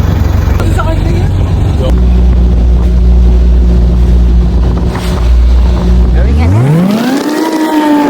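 Motorboat engine drones steadily on a boat ride to Honda Bay, with wind buffeting the microphone, then its pitch rises sharply as the throttle opens near the end.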